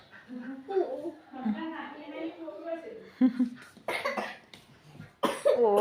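A child coughs a few times in short, sharp bursts near the end, between stretches of quiet conversation nearby.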